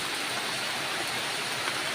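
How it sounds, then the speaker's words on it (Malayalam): Heavy monsoon rain falls in Kerala as a dense, continuous broadband wash with no pauses. It sounds steady and enveloping, with no voices over it. "ഈ മഴയുടെ കളകള ശബ്ദങ്ങളൊക്കെ കേട്ടിട്ട്"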